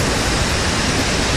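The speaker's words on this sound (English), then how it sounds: "That one over there is the falls." Christie Falls roaring after heavy rain, a steady, loud broadband rush of falling water with no breaks and no voices.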